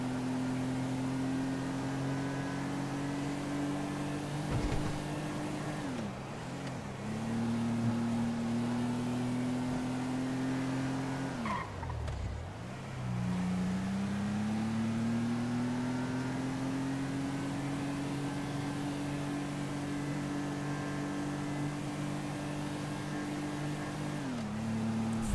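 BMW car engine driving in a GTA roleplay video game, a steady droning hum that drops in pitch twice as the car shifts or slows, then climbs again and holds.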